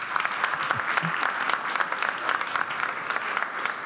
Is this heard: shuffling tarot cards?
no